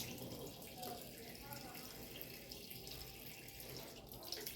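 Water running steadily from a tap into a sink while someone rinses lipstick off their lips, a continuous soft splashing hiss with no talk over it.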